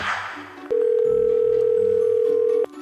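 A steady telephone dial tone held for about two seconds, clear and close, starting and stopping abruptly with faint background sounds around it.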